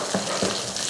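Shallots, garlic and ginger sautéing in oil in a kadai, a continuous close sizzle with two soft stirring scrapes in quick succession.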